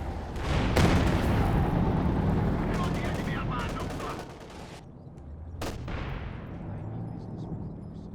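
Sniper shots and machine-gun bursts from a Company of Heroes 2 battle crackle in clustered volleys of sharp reports that thin out toward the end, with voices faintly underneath.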